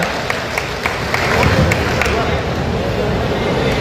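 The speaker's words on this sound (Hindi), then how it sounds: "मैं चाहूंगा कि एक बार जोरदार तालियों के साथ आप उनका स्वागत और अभिनंदन" A crowd at an outdoor political protest rally in Nagaur, led by MP Hanuman Beniwal, claps and cheers in a loud, dense, continuous wash of applause mixed with crowd noise, with no break across the whole stretch.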